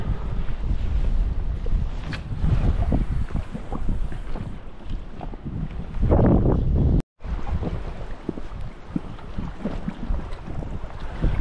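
Strong wind roars across the microphone while someone fishes from a boat on open water. The gusting rumble is loud and continuous, with one brief cut partway through, and nobody speaks.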